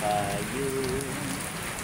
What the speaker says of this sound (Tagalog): lakas ng patak, lakas ng ulan ngayong hapon